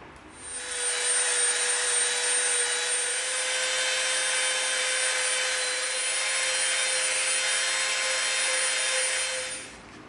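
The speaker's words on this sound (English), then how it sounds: "We're gonna come in with our Dremel, and we're gonna soften the edge all the way around here." A Dremel rotary tool softens the edges of EVA foam with a steady, high-pitched motor whine that holds an even tone for about nine seconds, starting and stopping cleanly.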